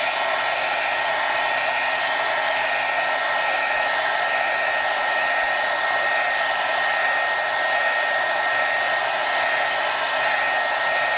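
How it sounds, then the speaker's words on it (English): Heat gun blowing hot air in one steady, loud broadband rush with a high whine, unbroken for about eleven seconds and with no voices. "Take my heat gun again and start from the back."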